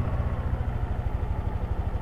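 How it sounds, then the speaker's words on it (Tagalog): A 2023 Yamaha Aerox 155 scooter engine idles with a steady low, even putter, close and alone, after a year of use. "Check natin yung tunog ng engine niya."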